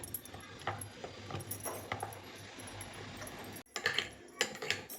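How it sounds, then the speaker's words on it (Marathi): Horse gram flour is mixed with warm water in a bowl, producing faint, irregular spoon clinks and soft scraping against a quiet background hiss, with no talking. "आणि चांगलं मिक्स करून घेते"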